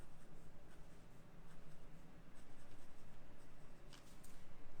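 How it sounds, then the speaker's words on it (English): A black pen scratching sketch lines around a doodle outline in an art journal, a steady run of faint, close strokes repeating in short rhythmic passes. "So with the black, I'm going to go around just to add like a few like sketch lines to her outline."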